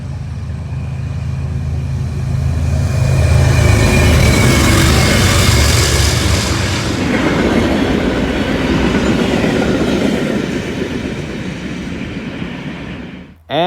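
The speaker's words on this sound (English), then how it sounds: "Then an eastbound Norfolk Southern manifest with, guess what? 2 NS GEVOs." An eastbound Norfolk Southern manifest freight train with two GE GEVO diesel locomotives rumbles past close by, deep engine drone with steady clattering wheels and rail noise, loud and continuous throughout.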